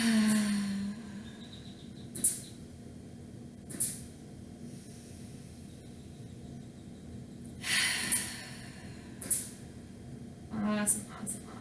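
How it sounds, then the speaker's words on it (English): Slow, deep breaths during a restorative stretch, with soft airy inhales and exhales recurring every couple of seconds, close and fairly quiet over a low steady hum. "Let's give it a couple more breaths."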